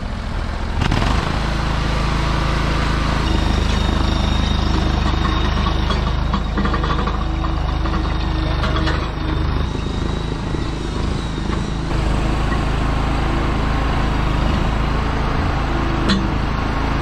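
A mini skid steer's small engine drones steadily at close range while the machine works with a small dump trailer during tree and dirt work, holding a constant mid-pitched idle-like rumble with slight load changes and no talking.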